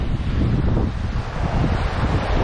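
Strong wind roars and buffets steadily on a beach in Penang, Malaysia, with a low rumble of surf underneath, loud and constant throughout.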